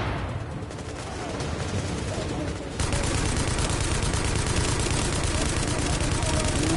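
Incendiary rounds fire in a Tom Clancy video game, a dense, continuous rattle of automatic gunfire that steps up louder partway through and keeps going without a break.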